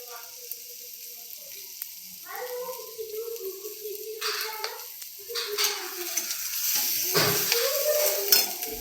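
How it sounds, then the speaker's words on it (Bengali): Onions fry in a pan with a soft, steady sizzle that grows a little louder and busier over time, joined by occasional stirring clinks, while someone talks throughout. "পেঁয়াজটা ভাজা হয়ে গেলে তারপর দিয়ে দেবো টমেটো"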